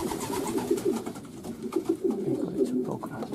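Pigeons cooing in a loft, several birds giving soft, rolling coos close by and overlapping continuously, with a little talk mixed in.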